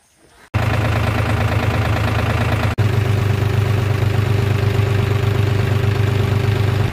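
Two 4WD tractors, a Powertrac Euro 45 Plus and a New Holland Excel 4710, idle with their engines held near 1000 RPM. A loud, steady diesel rumble starts after a brief quiet moment, with a short break midway.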